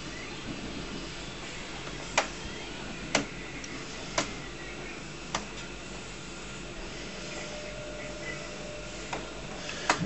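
An Epson BX300F printer fitted with a continuous ink supply system charges its ink cartridges: a low, steady whir broken by sharp clicks roughly once a second, with nobody talking.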